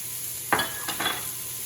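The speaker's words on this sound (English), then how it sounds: "And I'm going to add in a little bit of garlic." Garlic drops into a pan of frying corned beef hash, giving a brief stirring scrape and soft sizzle, two or three short bursts over a steady background hiss, with no talking.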